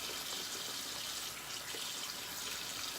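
Water runs steadily from a tap while shaving lather is hydrated, a continuous close hiss and splash with no break and no talking.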